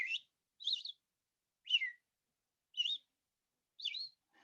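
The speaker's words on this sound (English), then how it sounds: "Red-eyed vireo is like..." Red-eyed vireo song rings out in a quick series of five short whistled phrases, each a rising or falling slur, evenly spaced about a second apart and heard alone against quiet surroundings.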